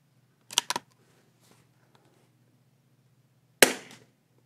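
A Savage Mark II rifle fires during a fish-in-a-barrel shooting challenge outdoors: two sharp cracks in quick succession, a pause with faint small clicks, then one more loud shot, with no voices.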